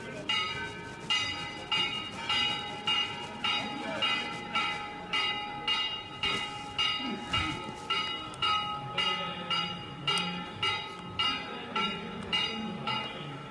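A bell rung by a legislative assembly speaker to open an event, sounding as a steady series of bright metallic strikes about twice a second, with faint voices and crowd noise underneath.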